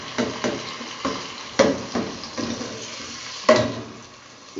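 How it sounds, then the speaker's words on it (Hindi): Finely chopped tomatoes are stirred in a pot while cooking a chicken dal mash, with soft sizzling and repeated scraping, clattering strokes of a spoon against the pot, close up and without talk. "ये देखें, इसमें मैं आप टमाटर डाल रही हूँ।"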